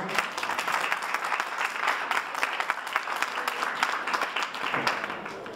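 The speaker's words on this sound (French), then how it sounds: "Applaudissez-la encore." Dense applause from an audience at a conference on clothing, steady and fairly close, with many overlapping claps and no talking over it.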